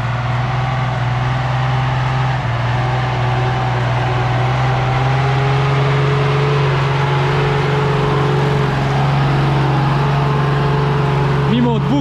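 A Star fire truck from a volunteer fire brigade, carrying 2,500 litres of water, drones steadily while crawling off-road through boggy terrain. The engine hum is loud and constant, and someone talks over it throughout.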